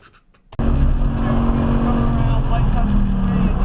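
A car at full throttle on a race track, its loud, steady engine roar starting abruptly after a brief quiet moment and holding close and strong to the end.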